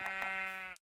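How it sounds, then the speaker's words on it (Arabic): A sheep in the Minecraft video game gives one short, loud, buzzy bleat lasting under a second and heard alone, then cuts off to silence. "تعالى، أنا عايز خروف كمان"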